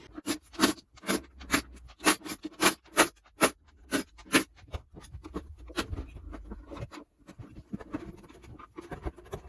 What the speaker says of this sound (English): undo all them little screws right the way around